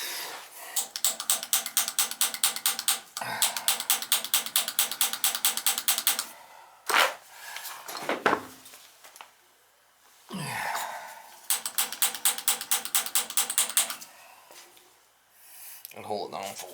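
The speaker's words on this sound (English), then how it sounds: "we'll turn this to pilot, push that down, and then we just click it" Piezo igniter on a Rheem gas water heater pilot clicking in quick repeated bursts, three runs of rapid, evenly spaced close clicks separated by pauses, with soft breaths and shuffling between.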